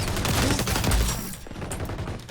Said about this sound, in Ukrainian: Мене штрафують за те, що я стріляю по своїм тімейтам?